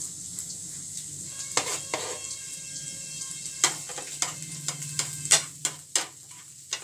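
Egg and garlic cooking gently in a pan, with a low sizzle under a series of sharp spatula taps and scrapes against the metal, close-up and irregular, no voices.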